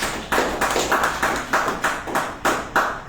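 A congregation claps together in a steady, rhythmic beat for Christ during a church service, loud and close, with about eleven evenly spaced strong claps and no talking over it.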